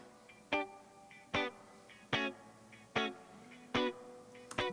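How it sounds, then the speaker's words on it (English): Electric guitar run through a stock Pro Tools spring reverb, playing sharp, evenly spaced offbeat chord stabs in a reggae-style rhythm, each short strum trailing a faint springy wash, with quiet accents between and no voices. "Then a little bit of Spring Reverb. This is the stock Pro Tools one."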